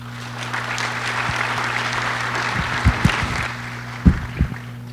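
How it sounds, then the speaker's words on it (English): An audience applauds panelists at an aviation security industry day. The dense clapping is steady under a constant electrical hum, with a few louder close thumps and handling knocks near the end as it starts to fade. "Can I have a round of applause for them?"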